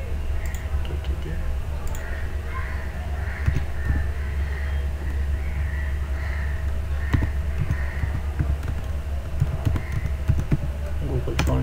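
Keys clatter on a computer keyboard as a font name is typed, quick irregular clicks running through the whole stretch over a low steady hum.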